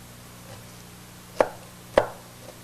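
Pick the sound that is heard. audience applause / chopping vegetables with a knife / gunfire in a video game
chopping vegetables with a knife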